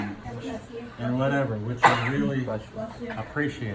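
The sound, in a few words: sneeze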